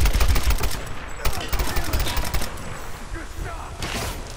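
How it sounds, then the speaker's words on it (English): Rapid machine gun fire in the 2013 Tomb Raider game, a loud, dense stream of overlapping shots with a couple of short pauses and a player talking over the gunfire. "Machine gun."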